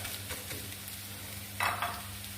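Eggs being scrambled in a pan for butter garlic egg, a soft steady sizzle under faint stirring with a brief louder scrape of the spatula near the end.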